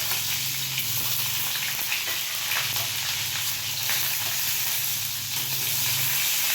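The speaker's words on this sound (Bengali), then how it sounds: "তার মধ্যে কালো জিরে ফোড়ন দিলাম" Nigella (black cumin) seeds tempering in hot oil for a pomfret mustard curry, a steady, loud, continuous sizzle and hiss that holds throughout without pause.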